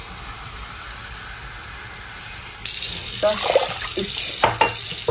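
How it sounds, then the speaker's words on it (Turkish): Water pours from a glass onto lentils in a pot, a steady splashing rush starting midway, with a short spoken remark over it. "Bir su bardağı mercimeğe şöyle 3 su bardağı su ekleyeceğim."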